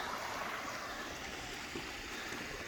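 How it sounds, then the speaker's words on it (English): Little Salmon Creek in Allegheny National Forest flows in a steady, soft broadband rush of running water with no breaks, heard from the bank at a campsite. "This is Little Salmon Creek looking up that way."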